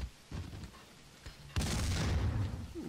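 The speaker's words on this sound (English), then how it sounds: "I'm hearing the explosions." Explosions and gunfire in the action video game Max Payne 2: dull booms and scattered shots, then a louder sustained burst of blasts and rumbling that continues to the end.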